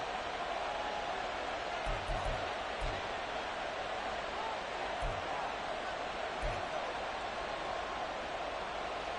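A Madden 24 stadium crowd produces a constant, even roar of broad noise throughout, with a few soft low thumps scattered beneath it and no clear talk.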